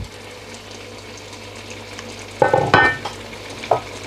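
Aloo gobi, a cauliflower and potato curry, cooking in a pan after fifteen minutes, a low steady bubbling simmer broken by a few close clinks and scrapes of a utensil.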